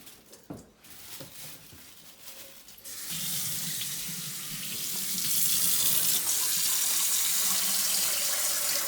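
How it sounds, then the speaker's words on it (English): Kitchen tap water runs steadily into a sink while raw cod is rinsed, a close, continuous splashing stream that swells louder after a few seconds of quieter handling noises. "I always like to rinse it in water"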